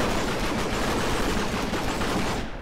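Sustained, dense minigun fire in the sci-fi game Starforge, a continuous loud roar of rapid overlapping shots filling the whole stretch before cutting off abruptly at the end.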